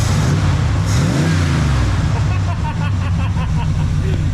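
A cold car engine, just fired up, revs loudly under throttle. The engine note rises and falls through several close revs and runs steadily for about four seconds.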